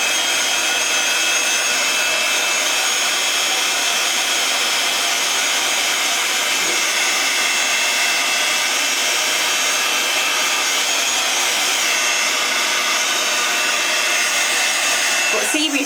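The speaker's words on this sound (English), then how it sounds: "I'm going to take my heat gun just to heat prep this." A heat gun blowing continuously while heat-embossing a cardmaking project, a loud steady whooshing roar that holds without a break throughout.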